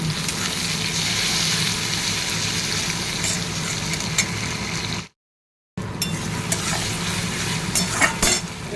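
Onions fry in oil in a home kitchen pan with a steady sizzle, while a utensil scrapes and stirs through them in irregular clanks, and the sound cuts out briefly midway.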